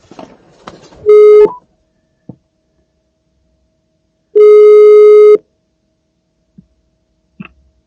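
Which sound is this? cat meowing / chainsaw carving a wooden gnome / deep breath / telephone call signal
telephone call signal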